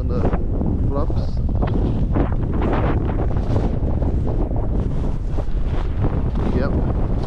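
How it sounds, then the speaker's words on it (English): Heavy wind of about 50 km/h on frozen Lake Winnipeg roars and buffets right at the microphone in constant low gusts, with muffled speech briefly surfacing underneath. "can hear the wind"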